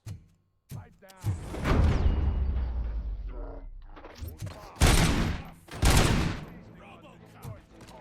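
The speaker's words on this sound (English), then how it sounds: "Am I hearing gunshots?" Gunfire bursts loudly in Robocop: Rogue City, with a long rolling volley followed by two sharp, heavy blasts, and game characters talking around the shots.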